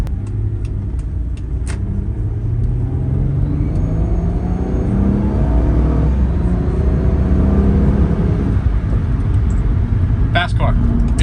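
A 1997 Mitsubishi Legnum VR-4 out on the road, its engine a steady low rumble throughout with loud, constant road and cabin noise and a brief rattle near the end.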